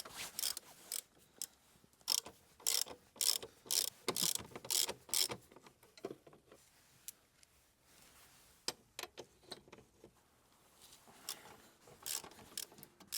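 Ratchet with a 14mm socket loosening bolts on a BMW B58 engine, sharp repeated clicking strokes in quick runs, then quieter spells and more scattered clicks, close and alone without talk.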